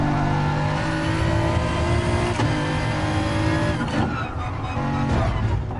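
A race car in the Gran Turismo Sport video game drives hard, its loud engine holding a strained, high rev throughout, with brief tyre squeal and shifts in pitch through corners.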